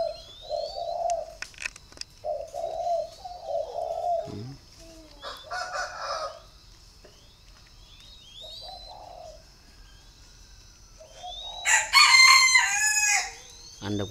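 Spotted doves give soft repeated coos in short phrases, close and clear, with a brief louder burst of calls near the end and no talking.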